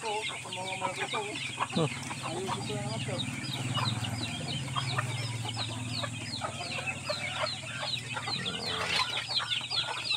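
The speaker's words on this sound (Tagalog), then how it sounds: "ang dami dito nilang manok" Many free-ranging chickens clucking and calling around a rural yard in Hindang, Leyte province, with Rhode Island type birds and tethered roosters among them, a busy continuous chorus with someone talking over it.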